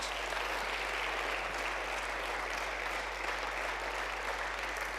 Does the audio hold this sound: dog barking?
no